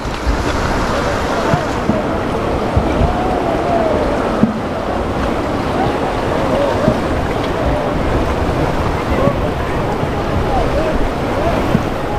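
A boat carrying people across the river near Bogamati, a steady churning wash of water and engine rumble buffeted by heavy wind noise, with voices talking faintly over it.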